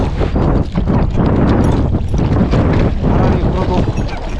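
Strong wind buffets the microphone on a boat during a fishing trip, a loud, continuous rumbling roar with gusty surges that nearly buries faint voices.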